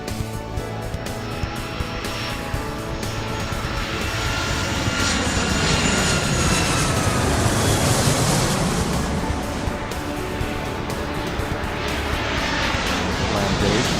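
Airliner engines spool up and roar as the jet accelerates down runway 04 left in the airport-control game Airport Madness 3, a loud steady rumble building and swelling toward the middle with whooshing tones.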